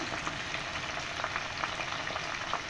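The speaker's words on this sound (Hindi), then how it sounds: "इस तरीके से अपने फ्राइज़ ऑयल में फ्राई करें" French fries frying in oil at about 160 degrees, a steady dense sizzle with crackling bubbles, continuous and close, with no voices over it.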